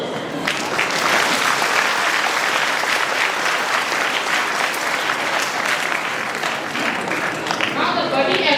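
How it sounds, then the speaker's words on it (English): Audience applause at a school cultural program, a dense steady wash of many hands clapping for several seconds, tapering slightly toward the end. "Give them a round of applause"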